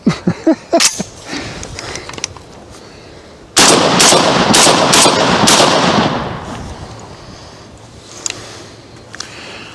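A 12 gauge shotgun fed from a 20-round drum fires outdoors: a few sharp shots open, then a burst of rapid, loud blasts with echoing rumble fades into quiet, followed by faint clicks.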